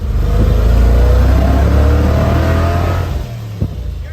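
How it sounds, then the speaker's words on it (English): A Ford F100 truck engine, part of a patina F-truck build, revs hard and high in a loud, sustained roar close by for about three seconds before dropping back to a lower idle, with a brief knock near the end. "I didn't know you could rev them like that."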